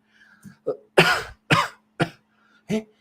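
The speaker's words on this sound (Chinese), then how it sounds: "你又咳嗽了，难道你又感冒了？" A person coughing in several short, harsh bursts spaced across a few seconds, close and clear, with a brief throat-clearing sound between them and no talk.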